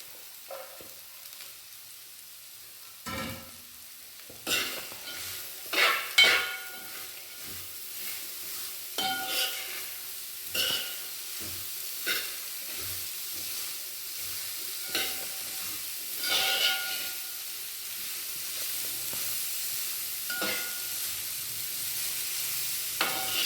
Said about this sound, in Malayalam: ഇനി നമ്മൾ അരിഞ്ഞ് വെച്ചിരിക്കുന്ന നമ്മുടെ ക്യാരറ്റ് ഇതിലേക്ക് വലിഞ്ഞെണ്ണം ഇട്ടിട്ട് ഒന്ന് ഇളക്കി കൊടുക്കാം